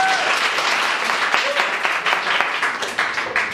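Sustained applause from a stand-up comedy audience, dense clapping with steady loudness throughout, no talk over it.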